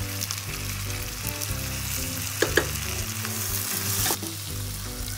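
Coriander, mint and curry leaves sauté in a pan for mutton biryani, giving a dense, continuous sizzle and crackle close up, with a couple of sharp spatula knocks partway through.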